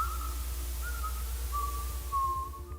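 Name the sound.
whistle at a window in a horror short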